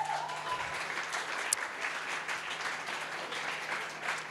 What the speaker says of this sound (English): So please, a round of applause for Matchroom Pool.